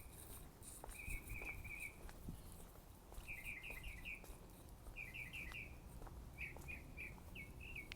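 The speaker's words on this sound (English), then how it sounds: "It's like hearing the birds." Small birds chirp and trill in short bursts from a tree outdoors, fairly faint against a soft background hiss, with several separate phrases spread across the moment.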